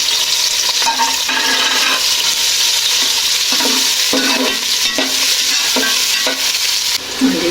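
A large onion fries in a pot while being stirred, a loud continuous sizzle broken by repeated scraping strokes of the spoon at an uneven rhythm.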